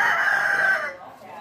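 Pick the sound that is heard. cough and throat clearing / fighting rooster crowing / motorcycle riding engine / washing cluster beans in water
fighting rooster crowing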